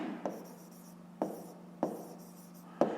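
A pen writes out a maths exercise on paper: quiet scratching strokes with four sharp taps as the pen touches down, close and otherwise quiet.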